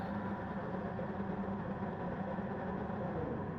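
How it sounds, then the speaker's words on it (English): Race car engines on the starting grid at the Nürburgring Nordschleife in a racing video game, blending into a dense, continuous low drone that holds at a steady level throughout, with no talking. "You see the revs start to build there."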